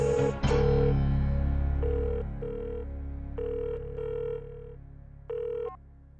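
A landline telephone rings in a household drama scene: repeated electronic ring bursts with short gaps, loud and close, over a low steady background hum, with no voices.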